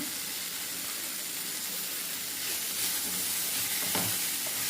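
Okra and tomato sizzle and fry in a pan while being stirred, a steady close hiss of frying with faint scraping of the spoon, continuous and fairly quiet with no talking.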